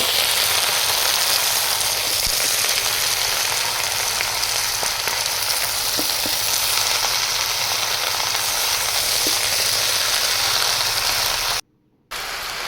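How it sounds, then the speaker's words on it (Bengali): Pumpkin, Malabar spinach and potato stirred in a frying pan for a fish-head curry, giving a steady broadband sizzle with faint scraping clicks throughout, briefly cutting out near the end. "পুঁই শাক এবং আলুটা দিয়ে দিচ্ছি সেই সঙ্গে দিয়ে দিচ্ছি এখানে কুমড়ো কেটে রাখা কুমড়োটা দিয়ে দিলাম দিয়ে একটু নেড়ে চেড়ে নেবো কিছুক্ষণের জন্য"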